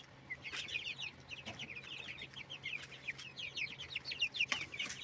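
Many small chicks, including speckled naked-neck chicks, peep and cheep continuously in a busy high-pitched chorus, close by, with occasional soft clucks and rustling.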